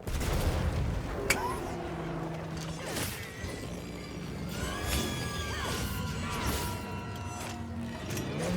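A bomb detonates in the video game Monster Hunter Wilds with a sharp crash and blast, then crackling impacts and ringing game effects beneath a busy mix of tones and lingering debris sounds.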